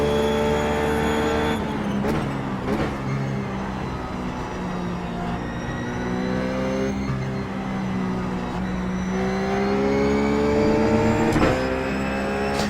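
Ruf GT3 race car engine lapping Spa Francorchamps in iRacing, a loud constant roar with pitch sweeping up and down between shifts, punctuated by quick shift cracks, no speech.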